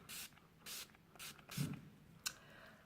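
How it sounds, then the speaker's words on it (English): Several short hissing sprays from a makeup setting spray pump bottle, spaced apart in quick bursts, fairly close, with a faint thump and tap between them. "I'm gonna take my setting spray, my all-nighter again"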